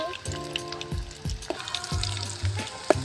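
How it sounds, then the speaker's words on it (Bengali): Chicken pakora frying in hot oil on a gas stove, a steady close sizzle with crackling bursts as pieces are turned, plus a few clinks of a utensil; no speech. "দেখো ভাজা হচ্ছে বন্ধুরা।"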